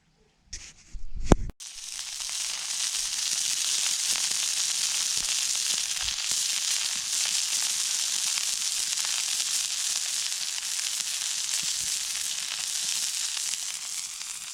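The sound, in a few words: breakfast frying in a pan outdoors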